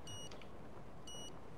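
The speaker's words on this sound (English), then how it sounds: "See, that beeping." In a video game, a high electronic warning beep sounds twice in short bursts, over a steady low background rumble.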